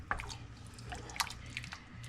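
Ground beef and barley simmering in a pot, a faint, close bubbling and popping with scattered wet ticks over a low steady hum, no talk.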